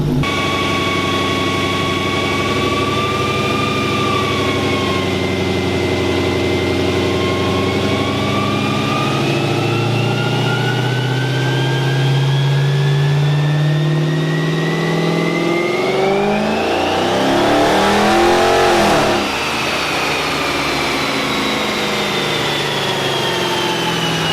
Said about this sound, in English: So as you can hear, she's chopping pretty good, and those pulls sounded pretty good as well too.